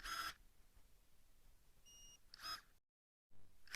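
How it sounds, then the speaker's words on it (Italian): Battery-powered electric pruning shears emit a short, clear electronic beep when switching blade position, a faint tonal blip in between, with another short beep following after a brief pause. "si aspetta un bip e poi si rilascia la forbice"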